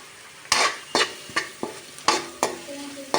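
Grated onion and curry leaves frying in a pan while being stirred, with a series of sharp scraping strokes about every half second over a steady close sizzle.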